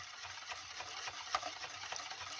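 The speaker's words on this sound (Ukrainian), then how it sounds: "беру нашу миску і продовжую так, розмішуючи, увожу желатин" Faint, soft stirring of dissolved gelatin into a bowl of dessert mixture, a gentle continuous swishing and scraping with light irregular clinks, close and quiet.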